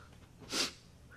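A single sharp sneeze bursts out near the microphone in the middle of a quiet stretch, brief and fairly loud, with faint breathing around it.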